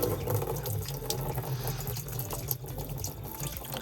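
On a farm, water runs from a green hose into containers, making a steady, close, gushing and splashing rush with no voices over it.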